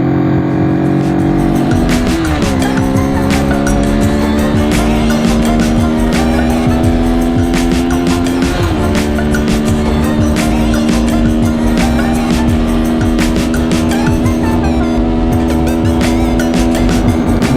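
A Honda CB twin motorcycle overtakes, its engine note rising steadily and dropping back at each gear change, loud and continuous throughout with no voices.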